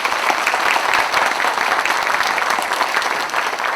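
Loud, sustained applause from party members at a Justice Party election rally in Incheon, a continuous close crowd of clapping with no break.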